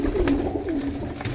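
Pigeons coo in short, soft throaty bursts, close by, a couple of rolling calls repeating over a moment.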